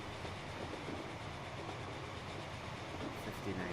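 A train running in the video game Transport Fever during a race, a steady, continuous rumble of wheels and rail noise at moderate level with no talk.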